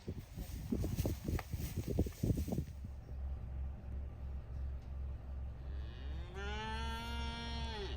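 Cows on a farm low and moo loudly and close by near the end, with several drawn-out calls over a steady low engine-like hum. Rough handling and wind noise fill the first few seconds.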